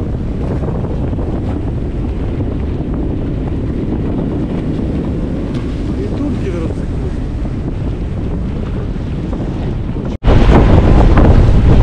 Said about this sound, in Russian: Ветер ровно в лицо.